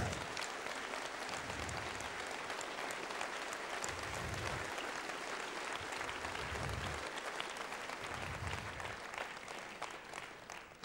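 An audience applauds steadily for about eleven seconds, a dense, even wash of clapping from a large crowd with no speech over it.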